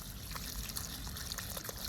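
Water pours steadily from a watering can onto an allotment plot, a continuous hissing splash of moderate loudness with no voices over it.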